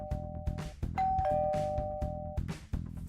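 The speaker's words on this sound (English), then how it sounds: "The next day, in the evening, the doorbell rang." A doorbell rings with clear, sustained electronic chime tones over a steady thumping background beat.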